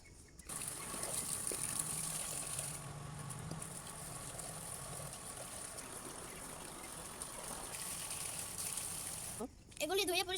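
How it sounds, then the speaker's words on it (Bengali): Hot water is poured into a container while duck feed is being mixed on a small home farm. A steady, faint trickling stream runs throughout, and a short burst of voice comes near the end. "এখন এটার ভিতর গরম পানি দিতেছি।"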